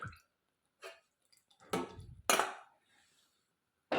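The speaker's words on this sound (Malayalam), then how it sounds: "ഇതിലേക്ക് വെല്ലം ഉരുക്കി വെച്ചേക്കുന്ന അരിച്ചൊഴിക്കുക" Melted jaggery syrup strained and poured into a mixer jar in a village kitchen, heard as a few short wet splashing and dripping bursts separated by brief silences.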